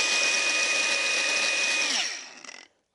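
Angle grinder cutting on a Giulietta engine, a loud, steady high-pitched whine held for about two seconds before the tool spins down and fades, followed by a few small clatters.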